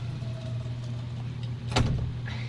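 An old Westinghouse elevator's rubber-band door operator in a Norfolk apartment building hums low and steady with a thin whine, then the door mechanism lands a short, sharp knock and rattle partway through.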